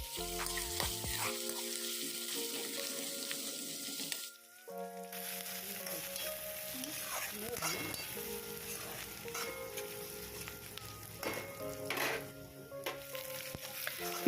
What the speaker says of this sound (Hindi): एबे आमे कटा प्याज ऐड करमा। एटा के एबे टिके लाल हेबार तक आमे भल से ताके भाजमा।